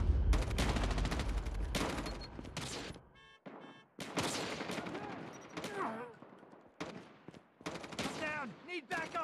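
Gunfire in the mobile shooter Call of Duty Mobile: dense, loud automatic bursts crackle in quick clusters, broken by short pauses, with voice lines heard between and over the shooting.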